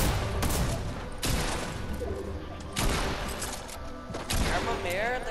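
Automatic weapon fire rattles in bursts during a shooter video game, with several loud sustained volleys separated by short gaps and some in-game effects over the top.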